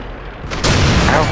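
Artillery fire in the World of Tanks video game: a sudden loud boom lands partway through, followed by a sustained rumbling roar, over a noisy battle background.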